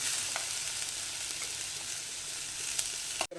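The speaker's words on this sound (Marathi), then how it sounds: "मसुरा जे घेतल्या होत्या त्या मसुरा घालून घेऊ आणि थोडा वेळ त्यामध्ये मसुरा परतून घेऊ" Masoor lentils sautéing in a pan for a white rassa curry, giving a continuous bright sizzle throughout that ends in a sharp clack at the close.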